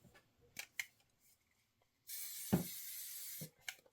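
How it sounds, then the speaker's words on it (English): A can of spray adhesive hisses onto quilt fabric in one steady burst of about a second and a half, close by, with a few light handling clicks before and after. "Now I'm going to give it another shot of spray."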